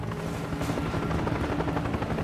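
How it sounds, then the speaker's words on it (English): A helicopter lifts an aircraft fuselage out in one piece on a 200-foot long line, its rotor a loud, continuous rhythmic chop with a droning engine whine, steady throughout. "They brought that helicopter in on a 200-foot long line and they lifted that fuselage out all in one piece."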